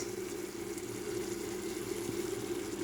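Oil poured onto chicken in a pot, a soft continuous liquid trickle and faint bubbling, low and steady, with no talk.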